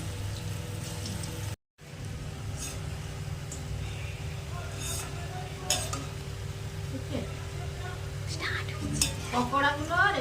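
Cabbage pakoras in gram-flour batter fry in hot oil in a wok, a steady crackling sizzle broken by a short silent gap, with occasional utensil taps and a bubbling rise near the end.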